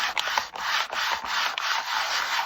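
An inked stamp is rubbed down by hand with a stamp and stencil tool, giving a steady, close dry scraping and rubbing sound that runs on with small dips and no talk.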